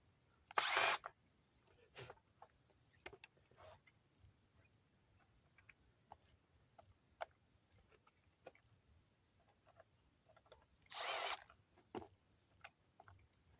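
A power driver removes screws from the driver door panel of a 2012 Mazda 3, giving two short, loud whirring bursts separated by a long stretch of quiet clicks and handling noises close by.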